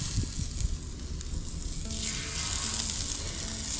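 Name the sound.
scallops sizzling on a Blackstone griddle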